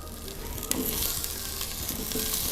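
Chunks of onion, potato and carrot sizzle in a frying pan, a steady crackling hiss with one sharp pop near the start, close and moderately loud with no talk.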